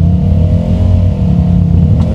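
Off-road jeeps from Chelyabinsk grind through deep ruts on a rough Southern Urals track to the Inzer Zubchatki in Bashkortostan, their engines droning loud, close and continuous throughout.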